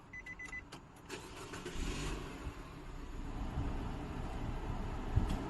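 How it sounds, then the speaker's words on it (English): A car engine cranks and catches after an NFC Bluetooth immobilizer is disarmed, settling into a low, quiet idle rumble, with a short electronic beep at the start. "Then we can start engine now."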